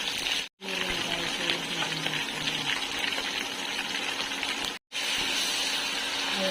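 Garlic and onion sauté in a pan, a steady close sizzle and crackle broken by two brief silent cuts, with faint background noise underneath.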